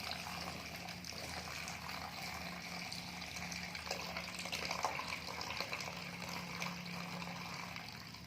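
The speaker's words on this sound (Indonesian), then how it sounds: "tambahkan airnya agar semuanya terkena" Water poured steadily to cover items being soaked for infection-prevention cleaning, a constant close splashing and filling sound with no pauses.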